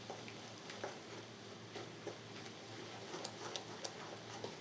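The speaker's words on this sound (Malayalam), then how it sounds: "രണ്ട് നുള്ളു ഗരം മസാലയും കൂടെ നല്ലതായിട്ട് ഇളക്കാം ഇങ്ങനെ ഇളക്കിക്കൊണ്ടേ ഇരിക്കണം" A spatula scrapes and stirs egg and cauliflower thoran with garam masala in a hot pan, giving a steady low sizzle broken by light repeated taps.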